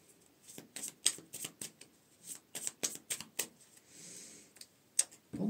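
Tarot cards being shuffled and drawn, a run of quick crisp riffling flicks and slaps with brief pauses, close and fairly quiet, with no talking.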